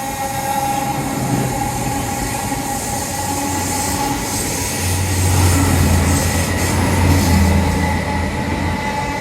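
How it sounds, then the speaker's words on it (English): A train rumbles past nearby at Dawlish, loud and steady, with rhythmic wheel clatter and a faint high squeal over the continuous roar. "Hello train, toot toot."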